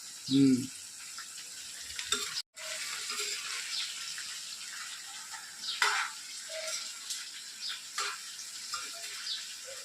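Curry leaves and green chilies sizzle in hot frying oil, a soft crackling hiss broken by a few stirring clinks and brief scrapes, fairly quiet and close.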